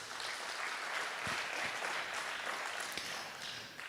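Applause from an audience at an innovation week event, a steady wash of many hands clapping at moderate distance with a few sharper claps standing out, continuing throughout without speech.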